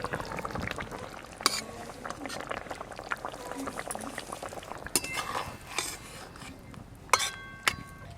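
Hilsa fish curry with fried small brinjal simmering in a pan, a steady soft bubbling texture with occasional clinks of a utensil against the pot, heard up close.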